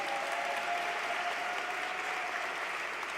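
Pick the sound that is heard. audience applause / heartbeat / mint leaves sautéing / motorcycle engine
audience applause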